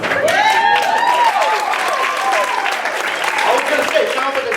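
Audience applause at a volunteer gala, a dense steady wash of clapping from a crowd filling the room, with some voices mixed in over the clapping.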